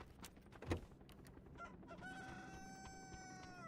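A chicken in the PUBG video game clucks and crows through a game soundtrack, a sharp knock near the start followed by a drawn-out, wavering crowing call that carries on for over a second at moderate loudness, no talk over it.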